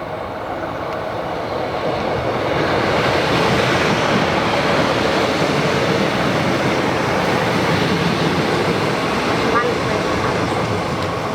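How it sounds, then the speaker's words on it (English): A steady, loud rumble and rattle of a slow-moving train carries on continuously throughout. "we did get a train after all, albeit a very, very slow moving one"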